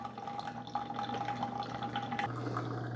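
A Mr. Coffee Iced + Hot single-serve coffee maker brews into a travel mug, a steady close stream of trickling, dripping liquid over a low continuous machine hum, with a pitch shift near the end.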